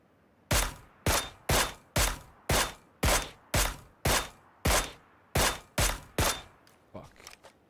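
About a dozen evenly spaced suppressed gunshots in the video game PUBG, each a sharp muffled crack with a short decaying tail, fired at a steady pace before a few quieter trailing sounds.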